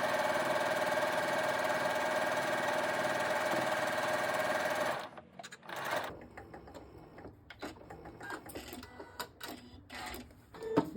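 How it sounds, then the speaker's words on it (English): A sewing machine runs steadily as it stitches quilt fabric strips together along a long edge, a loud continuous whir for about five seconds that then stops, leaving quieter handling clicks and rustles. "Take your next strip, lay it right sides together along this long edge, and just stitch along"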